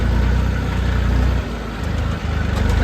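Swaraj tractor engine running steadily at idle, a close, continuous low mechanical rumble with a brief dip in level partway through and no talk.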